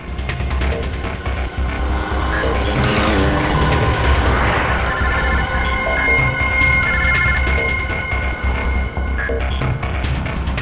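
A telephone rings in repeated electronic bursts over busy street noise and passing traffic, with musical tones swelling underneath.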